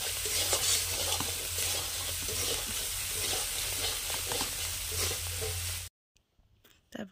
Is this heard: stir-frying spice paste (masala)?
yes